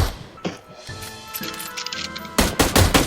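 Rapid bursts of automatic gunfire in a shooter video game, sharp loud cracks at the start and a heavier volley near the end, with scattered clinks between shots.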